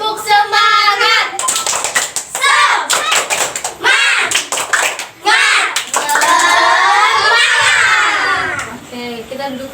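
A school class doing a rhythmic clapping chant, children's voices shouting the words together in unison with sharp bursts of hand claps, loud and close in a classroom.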